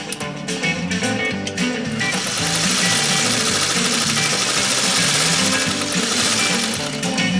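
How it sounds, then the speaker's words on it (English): A Singer 301A sewing machine stitches through four layers of heavy gunny sack. Its needle runs in a loud, rapid, steady rhythm, with a brief uneven start before it settles into continuous hammering. "This 301A loves to sew, and it loves to sew heavy duty."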